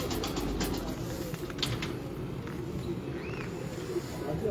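Breeder pigeons coo softly in low, rolling murmurs, faint beneath a steady wash of background noise.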